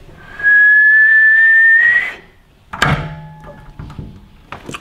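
A person whistles a sustained high tone that rises slightly for about a second and a half, followed by a door thunk and some faint handling sounds.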